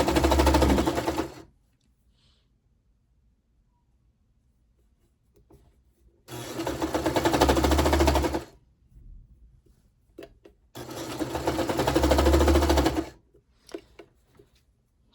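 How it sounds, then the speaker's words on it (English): A sewing machine stitches a T-shirt neckband in three separate runs of steady, close whirring, each lasting about two seconds, with quiet gaps and faint handling noises in between. "finish sewing, sew off a chain, cut that"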